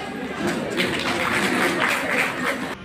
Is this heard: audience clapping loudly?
yes